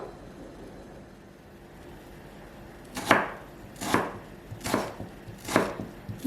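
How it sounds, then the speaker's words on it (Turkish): Two or three green tomatoes being cut into small pieces with a knife. After a quiet start come four loud, evenly spaced chops, close up with no talking. "Domateslerimi küçük küçük doğruyorum."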